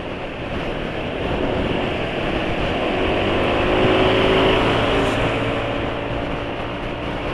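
Engine idling steadily after being ridden hard, running on a cooking-oil or revitalizer oil test, with a continuous broadband hum and faint tonal drone, fairly loud and unbroken, no talk.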